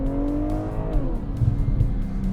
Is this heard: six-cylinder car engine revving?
yes